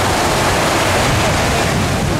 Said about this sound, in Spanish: Toda esta zona es prácticamente el oleaje un poquitito fuerte. Se siente fuertecito el oleaje.